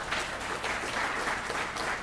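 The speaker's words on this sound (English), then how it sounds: "Dean Michael Berry a big round of applause" Audience applause at a district state-of-the-district gathering rises for Dean Michael Berry, a brief steady burst of many hands clapping at moderate level with no voices over it.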